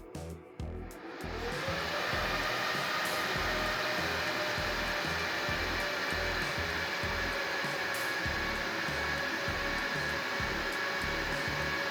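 A Dell PowerEdge 510 rack server spins up, its fans rising within the first two seconds into a loud, steady whooshing roar that holds with a faint underlying whine.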